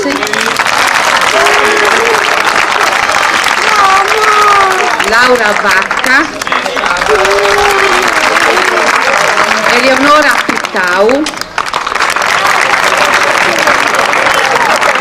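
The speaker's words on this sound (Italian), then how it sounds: "Un applauso per Adelaide Pizzalis" An audience applauds at a town band concert by the Banda Musicale of Nurri in 2023, with loud, sustained, dense clapping throughout while an announcer's voice carries over it.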